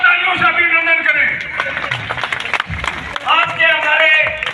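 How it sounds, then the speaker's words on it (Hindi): An audience at a public event claps for a couple of seconds, a burst of scattered, fairly close hand claps between stretches of someone talking loudly over a microphone. "जोरदार तालियों से अभिनंदन करें।"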